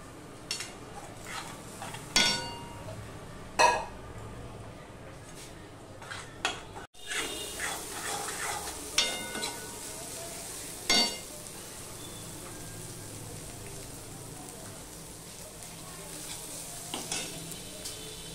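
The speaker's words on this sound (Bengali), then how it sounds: "দিয়ে মশলাটাকে আমি কষিয়ে নেব" Spice paste with chili powder and a splash of water is sautéed in a pan: a soft ongoing sizzle under repeated sharp scrapes and clinks of a spoon against the pan, close by.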